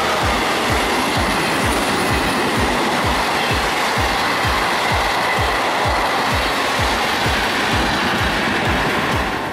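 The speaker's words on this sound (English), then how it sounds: "Intercity train is a type of railway vehicle used to transport passengers and goods between provinces, cities," An intercity passenger train runs along the rails, its wheels beating out a steady, evenly spaced clickety-clack over a loud, continuous rumble, heard close with no voices.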